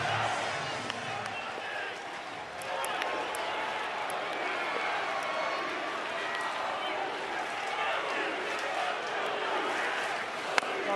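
Oklahoma Sooners fans cheer at a Men's College World Series finals baseball game, a sustained roar of crowd noise with scattered claps and shouts that holds steady throughout, under a broadcaster's voice.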